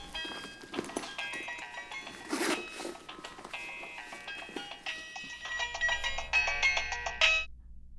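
A phone rings with an incoming call, playing a bright, repeating electronic melody of tinkling tones. It stays fairly quiet over faint background clatter and stops abruptly near the end.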